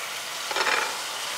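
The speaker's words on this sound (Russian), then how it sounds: "Никогда не закрывать крышкой, когда жарят грибы." Mushrooms fry in an old cast-iron pan, a steady close sizzle filling the clip with a brief stir near the middle and no talking.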